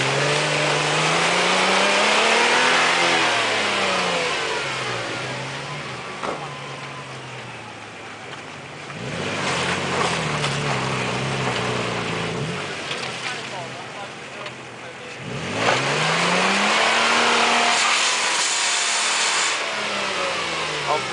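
A car engine revs hard again and again in long rising and falling sweeps, loud and close, while people shout over it and urge the driver on.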